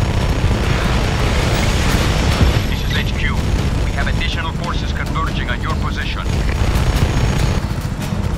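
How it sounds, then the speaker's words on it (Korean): A helicopter in Just Cause 3 roars with a loud, steady rotor and engine drone throughout, with crackling bursts of noise and voices talking over it. "이건 헬기가 약간 무겁네."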